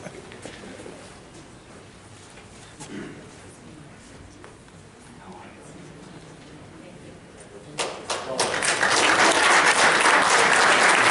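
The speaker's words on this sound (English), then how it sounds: "once again, a round of applause for our Regeneron Scholars and also our leading viewers." Audience applause at a town board meeting, starting after about eight seconds and swelling into dense, loud clapping; quieter room noise with a few faint voices and thumps comes before it.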